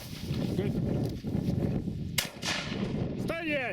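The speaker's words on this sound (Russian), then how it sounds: "Вот это выстрел, это круто." A shotgun fires once during a snipe hunt in the northern Kirov region: a single sharp crack over a background of rustling and wind, with speech nearby before and after the shot.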